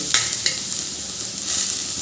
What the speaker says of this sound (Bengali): এবার মুলোগুলো দিয়ে দিলাম